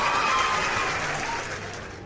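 A crowd at the Zandvoort circuit in the F1 24 racing game claps and cheers in a brief burst of dense applause that gradually fades.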